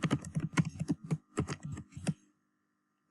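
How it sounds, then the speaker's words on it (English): Brisk typing on a computer keyboard, a run of close, crisp key clicks in uneven bursts that stops abruptly, leaving silence at the end. "I'm just going to type that in"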